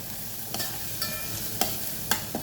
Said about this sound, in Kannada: ಇವಾಗ ಒಗ್ಗರಣೆಗೆ ಸ್ವಲ್ಪ ಅರಿಶಿಣದ ಹುಡಿ, ಈರುಳ್ಳಿ ಸ್ವಲ್ಪ ಬೆಂದಿದೆ ಅಲ್ಲ, ಮಿಕ್ಸ್ ಕೊಡೋದು.